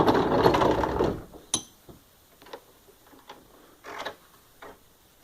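A bench vise's screw is loosened and spun by hand, giving a dense rattling mechanical whir for about a second, then a sharp metallic clack and scattered, sparse clicks and ticks fading toward quiet.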